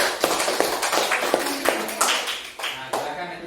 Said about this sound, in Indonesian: Nah, tepuk tangan dulu untuk kelompok pintar.